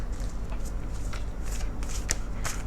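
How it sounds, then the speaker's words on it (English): Rapid crisp riffling of tarot cards being shuffled, close by, in several short bursts over a quiet background. "So let me just shuffle them."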